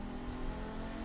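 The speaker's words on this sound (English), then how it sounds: "I like the engine sound, it's pretty cool." Audi 90 GTO race car engine in the iRacing simulator, a steady, loud mid-pitched engine drone revving under load, continuous and close throughout with no talking.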